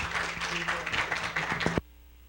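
A small group applauds Camila with dense, steady clapping for under two seconds, then it stops abruptly, leaving near silence.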